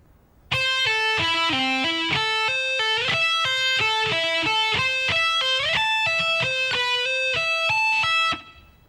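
A clean electric guitar lick: a quick run of bright single notes with hammer-ons and pull-offs, played alone and steady for about eight seconds.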